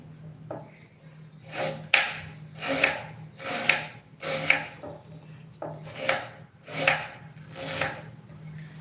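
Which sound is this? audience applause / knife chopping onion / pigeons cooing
knife chopping onion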